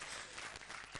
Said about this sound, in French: Applaudissez pour le mondenge